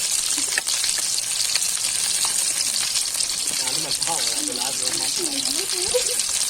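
Chicken pieces fry in a pan over a charcoal stove, giving a steady, even sizzle throughout while someone talks over it.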